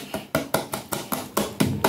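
A wooden spoon or hand repeatedly taps the top of a baking mixture in a home kitchen, about eight steady knocks in two seconds, close and distinct.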